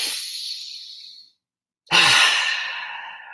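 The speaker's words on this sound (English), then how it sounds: "Let's just take a couple breaths together to like release the energy." A slow, deep breath during a group breathing exercise, with a long exhale, a short pause of silence, then a strong inhale or sigh that fades out, close and clear with no speech.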